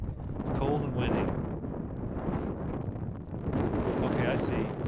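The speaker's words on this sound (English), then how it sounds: "It's cold and windy." Steady wind rushing across the microphone at an outdoor junior varsity baseball game on a cold day, a continuous broadband roar, with people talking nearby throughout.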